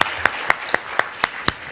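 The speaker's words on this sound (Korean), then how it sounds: "박수 부탁드립니다" Claps ring out at a biomedical conference, sharp and evenly spaced about four times a second in a steady rhythm over a quiet room, sounding more like a few hands than a full crowd.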